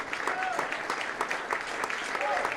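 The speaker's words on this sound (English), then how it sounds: "The crowd is showing their approval." A crowd at a professional squash championship at the Detroit Athletic Club breaks into sustained applause, dense steady clapping with occasional sharper claps and faint whistles, heard at a moderate distance.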